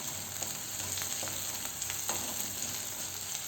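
Onions sauté with a spoonful of ginger garlic paste in a pan for rajma gravy, a steady soft sizzle with faint stirring scrapes and no talk.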